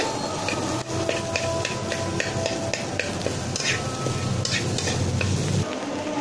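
Noodles with a sprinkle of Maggi masala sizzle steadily in a hot pan at home, a close, continuous frying hiss broken by light stirring taps and scrapes.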